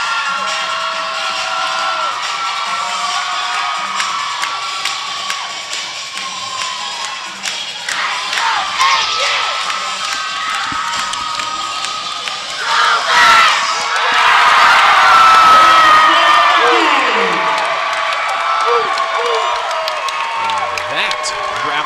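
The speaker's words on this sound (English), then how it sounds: "their home crowd giving them a standing ovation for what now, as it stands, a historic season" Home crowd at a national acrobatics and tumbling championship semi-final, Baylor vs Augustana, rising into a standing ovation for the Vikings; sustained loud cheering and whooping swells near the end, with an announcer talking over it.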